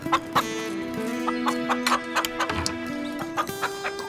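Chicken clucking in a backyard, a run of short, sharp clucks and squawks repeating irregularly, close and fairly loud, with no talk over them.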